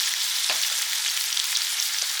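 Prawns frying steadily in a pan, a continuous close sizzle with a few soft taps as chili flakes go in, no voices.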